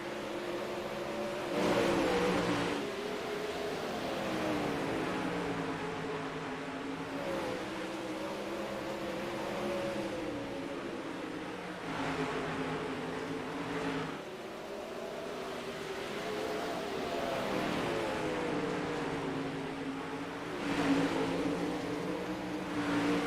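Sprint cars in the NARC All-Star Sprint Car Series roar around an oval during a heat race, a continuous dense engine drone whose pitch swells and dips as the pack circles, with no voices over it.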